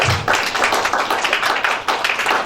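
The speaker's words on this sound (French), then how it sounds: "Acclamons Jésus" Worshippers clap together during a church service, a fairly loud, rhythmic run of hand claps with a soft low rumble underneath.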